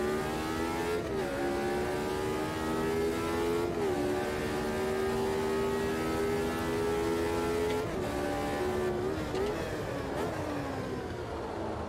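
Race car engines roar in Automobilista 2 at the Red Bull Ring, with a McLaren going past: a loud, continuous high-revving whine that climbs and drops through several quick gear shifts, with no voices.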